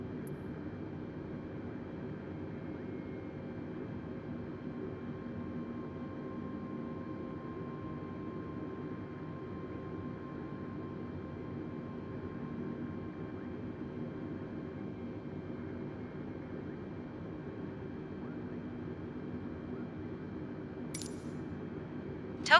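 Steady, even cockpit drone of an Airbus A320 on approach to Tokyo Haneda in Microsoft Flight Simulator 2020, a constant low rumble with a faint tone, brief clicks near the end.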